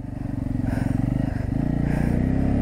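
Motorcycle engine pulling steadily in third gear on a hilly ride, a loud, close, throbbing low drone that rises slightly in pitch as it goes, with no voices.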